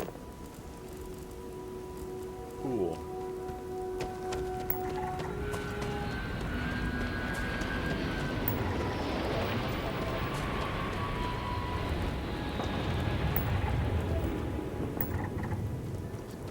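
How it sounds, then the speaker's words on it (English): Freezing liquid rain falls on a plateau in the video game Starfield, a steady soft patter with faint musical game tones drifting over it and one brief spoken word. "freezing liquid rain"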